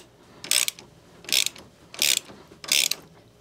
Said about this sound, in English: Now we need to remove this bolt.